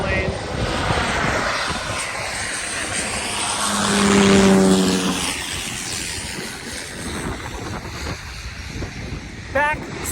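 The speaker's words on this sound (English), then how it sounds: "Oh, here's another, just a prop plane." A propeller plane flies over Maho Beach on St. Maarten, its engine drone swelling to a peak and fading under heavy wind noise on the microphone, with people talking nearby.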